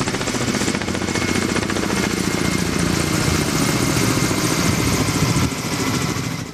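A firefighting helicopter dropping water on a wildfire in southern Rethymno, Crete, produces a loud, steady, close engine and rotor drone that fills the whole stretch without pause.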